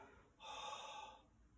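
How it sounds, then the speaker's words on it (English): A single long exhale through the mouth during a standing hip hinge exercise, a soft breathy rush that swells in and fades over about a second, close and quiet. "I'm breathing out through the mouth"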